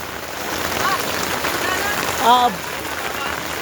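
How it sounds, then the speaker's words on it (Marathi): Steady rain pours down in a constant hiss, with a faint voice briefly heard underneath. "मोठा पाऊस पडतो आहे"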